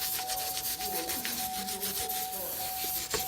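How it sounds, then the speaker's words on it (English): A wire brush scrubs a brake caliper in quick, repeated rasping strokes, close and steady throughout, with a constant high whine running underneath. "Now I like to use the wire brush because it gets into the hard to reach nooks and crannies"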